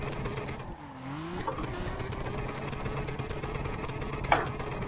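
Drift car engine in the Assetto Corsa racing game, running as a steady mid-level drone with one brief pitch sweep early on, heard alone with no talk.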